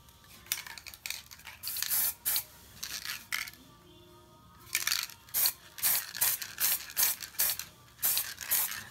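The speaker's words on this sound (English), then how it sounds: "I spray green and yellow through each other so the colors will mix." Short hissing bursts of green and yellow spray paint on computer RAM modules, one after another in an uneven rhythm with brief pauses, close and fairly loud, with no talking.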